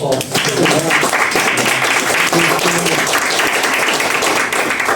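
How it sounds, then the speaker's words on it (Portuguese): A room full of people at a community tourism education meeting breaks into loud, sustained applause, a thick, steady wash of many hands clapping for the whole stretch. "Eu quero pedir a todos uma salva de palmas"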